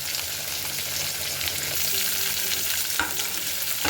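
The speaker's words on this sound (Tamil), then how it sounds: "இந்த ஒரு சின்ன பாதி வெங்காயத்தை மட்டும்தான் போட்டு வதக்க போகிறோம்" Half an onion sautéing in oil in a pan for mutton curry, giving a loud, continuous close sizzle with stirring scrapes and a sharp knock near the end.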